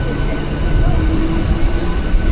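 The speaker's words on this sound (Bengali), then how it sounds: "ভালোই কিন্তু ট্রেন চলছে" A passenger train running from Tamluk to Digha after leaving Deshpran station gives a steady, loud rumble with rattling carriages throughout, and a voice talks over the noise.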